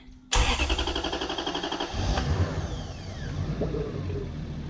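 A Lexus LS400 engine, freshly refitted after being pressed back into the body, cranks briefly then catches and settles into a steady idle with a slight rev swell, loud and close with no talking.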